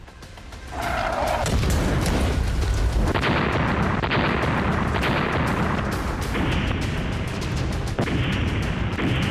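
Bombing explosions and heavy booms from an Israeli air strike on targets in Iran rumble and crack in a dense, continuous barrage, loud and close with sharp bursts and no speech.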